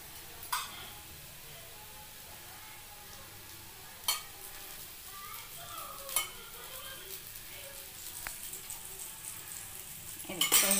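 Batter made from soaked and ground grains fries in a pan, a quiet steady sizzle close by, punctuated by a few sharp clicks and scrapes of a utensil and a louder clatter at the end.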